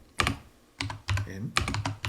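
A computer keyboard is typed on in short bursts of several quick clicks separated by brief pauses, close and clear with no talking.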